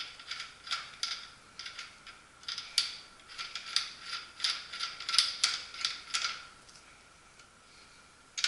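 A nut being tightened during bike assembly gives a quiet run of ratcheting clicks, uneven bursts of tight mechanical ticking heard close up with no talk.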